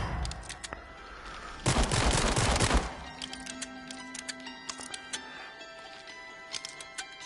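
Gunshots in the VR horror shooter The Dark Pictures: Switchback, with a loud, rapid burst of fire for about a second, then scattered sharp clicks and ticks over a steady background hum.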